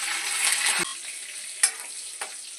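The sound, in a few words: green chillies and curry leaves frying in a pan for upma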